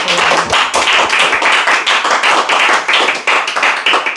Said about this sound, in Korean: 익산 갑 지역의 김민서 후보 박수로 환영해 주십시오.